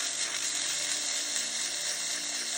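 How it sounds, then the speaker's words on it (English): Electric nail drill filing down an oversized nail form, a steady high-pitched whine running close and constant throughout. "I will take my drill and"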